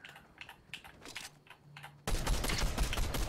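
Fortnite gunfire bursts out loud and dense after a stretch of quiet keyboard clicks, a sudden steady rattle of shots filling the last second or so.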